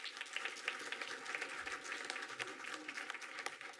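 Audience applause at a school district board of education meeting, a steady wash of clapping that holds fairly even for a few seconds, somewhat distant and moderate in level.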